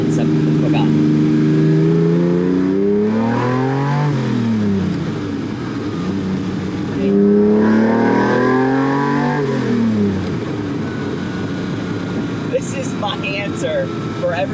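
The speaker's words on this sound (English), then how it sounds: "It's the sound, the popping," Downdraft Lamborghini Countach V12 revving hard; two long climbing-and-falling engine sweeps with gear changes, loud and close from inside the car, followed by popping and crackles on the overrun.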